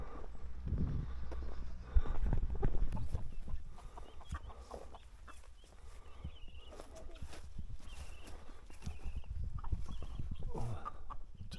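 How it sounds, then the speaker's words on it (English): Chickens and turkeys cluck and scratch around outbuildings in a Polish village, scattered soft clucks and shuffling steps at moderate distance with a few louder bursts, no speech. "Oh, turkeys and the chickens, look."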